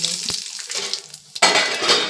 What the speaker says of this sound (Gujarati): તેલ આવી ગયું છે એની અંદર નાખી દઈશું રહી અડધી ચમચી જીરું નાખવાનું છે પછી હિંગ નાખવાની છે